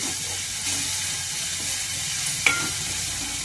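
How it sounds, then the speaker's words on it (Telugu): Green chillies frying in hot oil for a fish curry make a steady close sizzle that hisses evenly throughout, with one faint clink near the end and no talking. "పచ్చిమిర్చి కూడా వేస్తున్నాను. ఇవి వేసుకున్నాయి కదా, ఆయిల్ బయటకు వచ్చింది."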